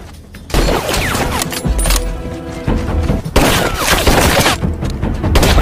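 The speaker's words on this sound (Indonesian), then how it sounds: "baku tembak antara kedua marinir ini pun terjadi" A gunfight between two marines in a sniper action film: loud, sustained rapid-fire gunshots and heavy bursts that come in overlapping waves, with a brief quieter gap before the shooting resumes at full intensity.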